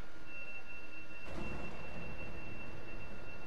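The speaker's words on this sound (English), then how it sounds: "So we're at the thunder." In the game A Way Out, a sudden low thunder rumble breaks over a steady background hiss and hum, then rolls on faintly for a couple of seconds.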